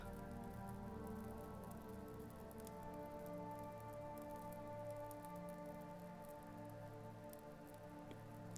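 Steady rain falling outdoors near a Finnish spa lakeshore, a continuous even wash of soft patter that stays at the same moderate level throughout with no voices.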